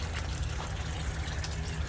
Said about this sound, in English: I'll put it back to the pond and it starts coming out of the waterfall again